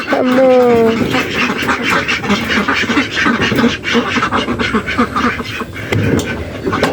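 Domestic ducks quack in short, repeated calls close by, mixed with rustling and handling noise around a duck pen where eggs are being checked, with some voices underneath.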